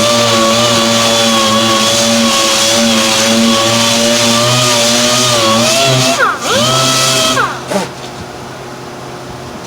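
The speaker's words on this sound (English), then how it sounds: "I just like to use the 36 on a palm sand." A palm sander with 36 grit paper works over Bondo body filler on small car body dents, a loud steady motor whine with a harmonic hum that briefly dips and surges near the end, running alone throughout.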